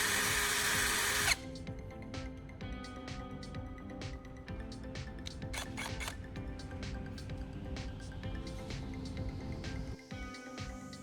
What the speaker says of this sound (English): As I spin the drill, I use a piece of sandpaper to meticulously sharpen the tip to a fine point